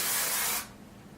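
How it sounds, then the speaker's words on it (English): Hairspray hisses from an aerosol can onto freshly curled hair in one loud, steady burst of about half a second that cuts off abruptly, leaving quiet room tone. "I will hairspray the top once it's all curled."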